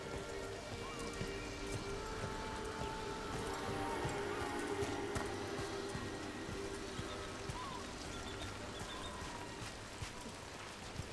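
Steady rainfall in Dragon Age: The Veilguard, a dense continuous patter on surfaces that fills the whole stretch at an even level, with faint scattered game sounds beneath and no talk.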